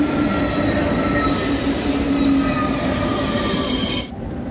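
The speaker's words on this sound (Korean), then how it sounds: "기차 와요, 밀라노 기차." A train bound for Milan pulls into a station with loud, sustained metallic wheel squeal and rumbling rail noise, ending in a sharp high screech before settling.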